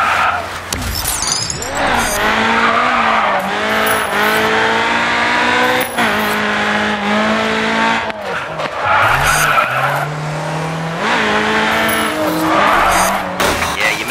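Car drifting in the racing video game GRID 2, with sustained loud tire squeal and a revving engine rising and falling through repeated slides, continuous and close throughout.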